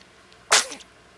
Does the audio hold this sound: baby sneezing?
yes